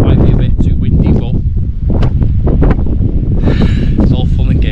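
Wind blowing hard across High Snockrigg, a hill in the Newlands area, with heavy low buffeting on the microphone throughout while someone talks over it.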